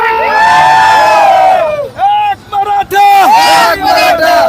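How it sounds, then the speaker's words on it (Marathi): A large crowd at a Maratha reservation march on a Mumbai highway cheers and shouts loudly and continuously, voices rising in excited whoops and chants close by. "इतका जल्लोष आणि जोश दिसत आहे"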